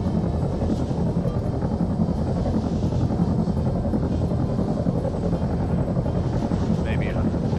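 A helicopter in flight during a test, its steady rotor and engine drone loud and continuous throughout, with faint voices mixed in.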